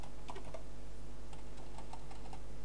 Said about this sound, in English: What you need to do is to type